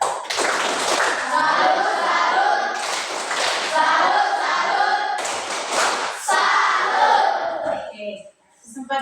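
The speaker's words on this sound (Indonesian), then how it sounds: "Tepuk salut dulu untuk kelompok 1." Classroom group gives a rhythmic salute clap for the first presenting group, with children's voices cheering and chanting loudly over the clapping in three bursts before it stops abruptly.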